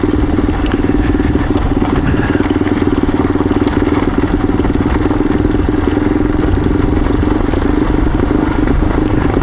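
A motorcycle rides down a rough, drained dirt road called Rocky Top Road. The engine drone is loud, continuous and close, with rattling and clatter from the uneven track and no pauses.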